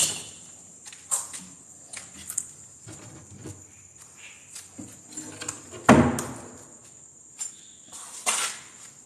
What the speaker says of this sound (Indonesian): Mustahil hantu boleh kasih goyang tuh pintu.